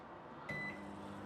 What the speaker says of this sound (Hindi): in the microwave for 2 minutes